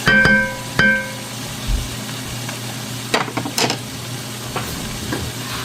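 Pork liver steak with oyster sauce and seasoning sizzles in a pan, a steady hiss broken by a couple of sharp clanks near the start and scraping stirring noises later.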